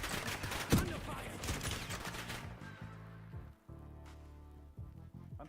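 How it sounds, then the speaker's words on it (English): Call of Duty: Warzone enemy gunfire rattles in dense rapid bursts for the first half, then gives way to quieter game sound with a few distant shots. "there's an enemy squad gunning for you"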